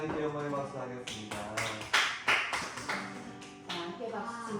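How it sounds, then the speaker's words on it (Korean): Congregation at a Korean church Sunday worship service, with a handful of sharp, scattered claps rising over louder singing voices and tonal music. "하나님께 영광의 박수 하겠습니다."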